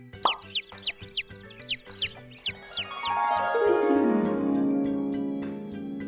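A chicken gives a quick run of about eight short clucks, evenly spaced and close, before they give way to a long, drawn-out tone that fades slowly; it plays as a sound effect in a children's book lesson.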